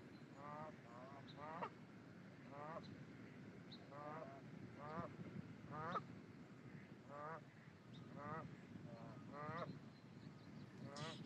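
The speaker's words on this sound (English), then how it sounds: "Now that sound was of a kind of like a duck cooing, but that was a fish." A fish at Tule Ponds gives a duck-like cooing call, a series of short rapid pulsing croaks repeated in bursts every second or so over a steady outdoor background, faint and fairly distant.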